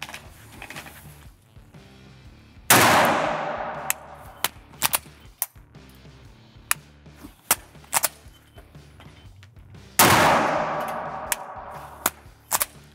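Dry-fire drill with a pistol loaded with snap caps: sharp mechanical clicks scattered across the span, with two louder bursts of racking the slide after tapping the magazine, close and with no talking.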